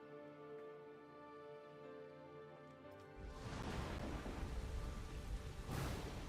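A thunder and lightning storm in the strategy game Civilization VII comes in as a loud rumbling roar with rain-like hiss, swelling abruptly over a quiet tonal game music bed and staying loud.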